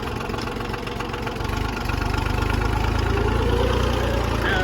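A John Deere 750 tractor engine runs close by in high range with a steady, throbbing diesel chug. The engine swells a little louder partway through and keeps running evenly to the end.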